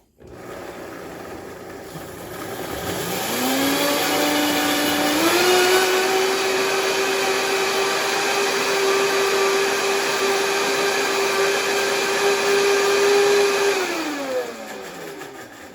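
A blender on low purees corn kernels with vegetable stock for a Cantonese-style creamed corn soup, whirring up to a steady motor whine, holding it for several seconds, then winding down and stopping.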